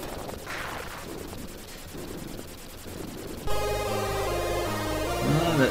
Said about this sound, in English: Got a nice helicopter sound as well.